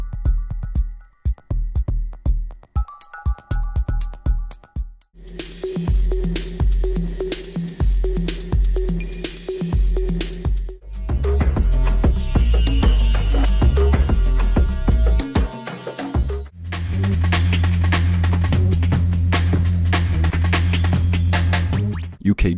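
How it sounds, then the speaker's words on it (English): UK bass club music, a mid-2000s British style drawing on house, grime, dubstep and UK garage, plays loud and steady with heavy low-end bass and a punchy beat, shifting through several sections with brief breaks. "This is a form of club music that emerged in the United Kingdom during the mid-2000s"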